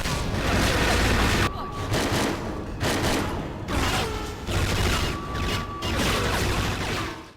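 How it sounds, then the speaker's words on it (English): Gunfire effects from the GameCube shooter 007 Agent Under Fire, sustained bursts of rapid, crackling shots in several long volleys separated by short gaps, loud and dense throughout. "The gunfire sound effects are really strange on Agent Under Fire"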